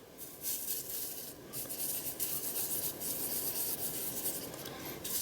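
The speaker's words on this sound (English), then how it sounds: "Rub it over the top." Gilding flake rubbed by hand over a stencil, a close, continuous dry scratchy rubbing with rhythmic strokes lasting the whole stretch, alone without voices.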